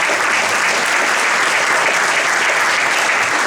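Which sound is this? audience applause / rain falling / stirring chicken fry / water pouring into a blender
audience applause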